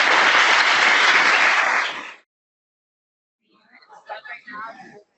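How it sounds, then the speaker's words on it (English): Audience applause at a wage theft and labor justice symposium, a loud burst of clapping lasting about two seconds that cuts off sharply, followed by silence and then faint murmured talk. "let's give them a round of applause"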